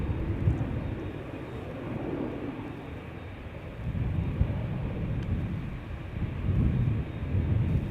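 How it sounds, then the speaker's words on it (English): KLM Boeing 787-10 Dreamliner bound for San Francisco passing after takeoff from Schiphol's Polderbaan, a continuous low jet rumble that swells and surges in waves, fairly close and loud with no voices. "the first airplane to come this way is KLM Flight 605, the 787-10 to San Francisco"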